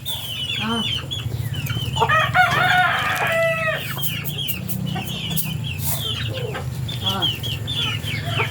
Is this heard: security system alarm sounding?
no